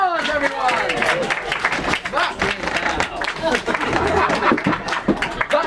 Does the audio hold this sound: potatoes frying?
no